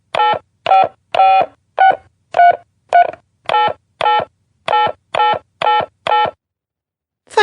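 Telephone keypad tones sound as a debit card number is entered, about fourteen short, evenly spaced beeps, loud and close, with a brief higher sound at the very end.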